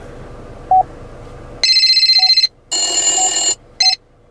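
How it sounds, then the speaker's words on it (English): Bluetooth ringtones from the infotainment system of a 2018 Chevrolet Equinox LT, with short electronic beeps followed by loud trilling rings that start and stop in bursts inside the quiet cabin. "And then you have your Bluetooth settings, and you have Bluetooth ringtones."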